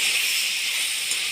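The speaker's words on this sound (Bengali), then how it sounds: "এবার ভেজে রাখা ফুলকপি আলু আর পনিরটা ওর মধ্যে দিয়ে দেবো" Fried cauliflower, potato and paneer hit a hot pan in a steady, loud sizzling hiss that holds evenly for just over a second.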